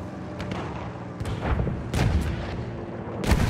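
Enemy tank fire in Battlefield 1, several heavy booming blasts spaced a second or so apart over a rumbling battlefield, the last one loudest.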